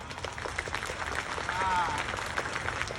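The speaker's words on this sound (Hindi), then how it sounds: "एक बार हमारी स्पेस एजेंसी इसरो के लिए जोरदार तालियां बजाइए।" Audience at the Ambedkar Nagar Mahotsav festival applauding for ISRO, a dense rush of clapping from a large crowd mixed with background voices and a brief whistle-like tone.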